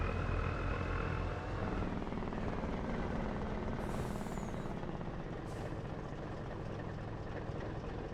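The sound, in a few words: Jake brake on a logging truck in Farming Simulator 25 video game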